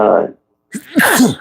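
A single sharp sneeze bursts out near the start, followed after a short silence by someone talking.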